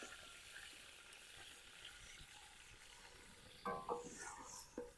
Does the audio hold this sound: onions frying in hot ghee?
yes